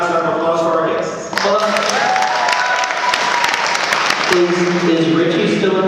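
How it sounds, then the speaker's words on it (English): Sustained applause from a convention panel audience honoring guests, dense clapping at steady volume with a harmonic voice or music layer underneath and brief louder bursts throughout. "I'm going to give one last round of applause for our guests."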